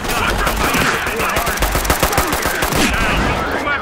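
Rapid automatic gunfire in the tactical shooter game Ready or Not, with loud bursts of shots crackling in quick succession and a dense, harsh rattle throughout.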